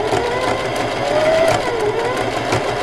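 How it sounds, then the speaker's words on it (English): A sewing machine sews all the way around the edge of a scrubby dishcloth in one continuous, loud, close whirring run. "we just sew all the way around"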